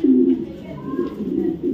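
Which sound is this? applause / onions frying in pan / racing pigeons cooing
racing pigeons cooing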